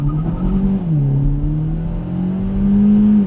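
A 2017 Hyundai Elantra Sport with a 1.6-liter engine and 7-speed dual-clutch gearbox launching hard from a stop, a loud, close engine drone climbing in pitch with a brief shift dip, heard from inside the cabin.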